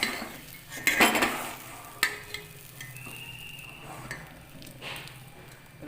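Cooked rice is mixed with a fried tempering for amla pulihora, bringing close metallic scraping and clinking of a spoon against a steel vessel in irregular strokes, with a faint sizzle behind.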